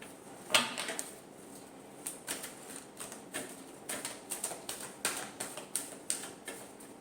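Tarot cards are shuffled in a series of soft, rhythmic riffles and taps, each a brief papery flutter repeating roughly every half second, close and quiet.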